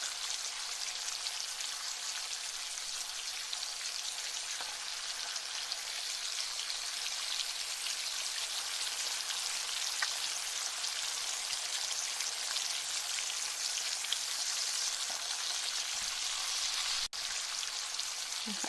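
Thinly sliced beef for a Philly cheesesteak frying in a pan, giving a steady, even hiss and crackle of moisture cooking off that stays constant throughout with no talk.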